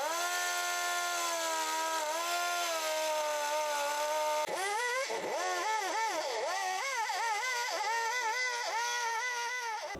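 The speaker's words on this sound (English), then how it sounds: "And I've got a round rasp bit, and it takes a lot of material off." A rotary grinder fitted with a round rasp bit cuts into a wooden saltwater popper lure, giving a steady, loud motor whine that shifts and wavers in pitch as the bit bites into the wood, with no talking.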